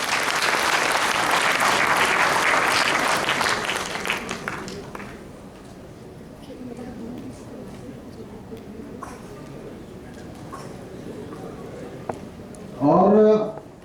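An audience at a diet and health talk gives a loud burst of steady applause that fades out after about four seconds, followed by quieter room noise with scattered sounds and a short voice near the end.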